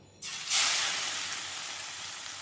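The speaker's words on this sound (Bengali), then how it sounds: "এরপর আলুগুলো দিয়ে লো ফ্লেমে আস্তে আস্তে আলুগুলো ভেজে নেব।" Potatoes dropped into hot oil in a pan set on low flame, a sudden loud hiss that swells then settles into a steady, close, even sizzle with no talking.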